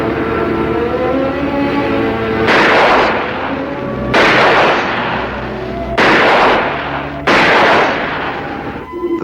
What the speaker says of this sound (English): Those shots came so fast and so close.